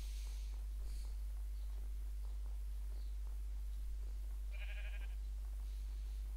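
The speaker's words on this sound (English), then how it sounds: "Sheep's laughing at me because I haven't got any egg." A sheep in the video game Minecraft gives one short, faint bleat about two-thirds of the way through, over a low steady hum with no talking.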